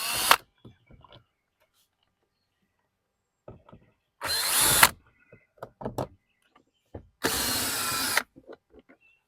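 Power drill backing screws out of a Honda Pilot front door panel, with two short whirring bursts close up and light clicks and handling sounds in between, and no talking.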